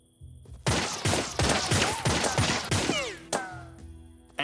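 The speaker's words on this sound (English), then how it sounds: "Watch and learn. Suppressing fire!" A steady burst of suppressing gunfire aimed at rocks in the video game 3 Minutes to Midnight: seven or eight loud, evenly spaced shots in quick succession, each ringing briefly, then a final lone shot after a short pause.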